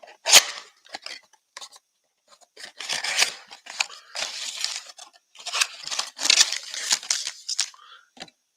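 Scissors snip and slice through the cardboard of a basketball trading card mega box, crisp cutting strokes in irregular bursts with short pauses, close and alone.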